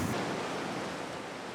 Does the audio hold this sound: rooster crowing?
no